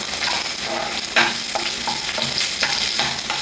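Garlic, curry leaves, green chillies and sliced ginger sautéing in a pan for fish molee, a steady close sizzle broken by intermittent scrapes and stirs, with no talk.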